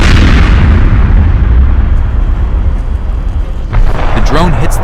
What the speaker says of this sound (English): The explosion is so powerful due to the detonation of the ammunition.